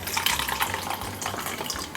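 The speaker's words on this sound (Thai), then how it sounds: "เสร็จแล้วเราก็เทน้ำออก เทน้ำส่วนเกินออก" Excess water is poured out of a cake pan in a kitchen during chocolate butter cake preparation, a steady close splashing trickle running continuously for about two seconds.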